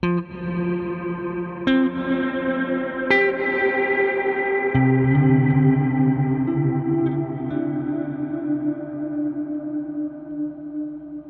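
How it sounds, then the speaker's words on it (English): Sustained guitar chords through a Keeley reverb pedal, drenched in shimmering chorus and long reverb, with echoing delay repeats from two delay lines trailing each new strum. "So you can really hear those two delay lines."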